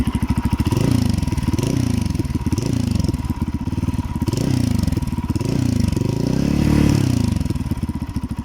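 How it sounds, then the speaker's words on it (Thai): A GR200R motorcycle engine blips repeatedly toward 4,000 rpm, each rev swelling and dropping in a rough, throbbing rhythm, loud and close with no one talking. "เสียงเบิ้ลกันนะครับ"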